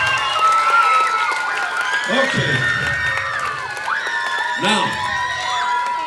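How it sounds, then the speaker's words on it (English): A school crowd cheers, whoops and claps for senior students at a Richmond Rockets senior salute, a loud continuous roar with a person speaking briefly over it. "Come on, round of applause for this incredible group of Richmond Rockets"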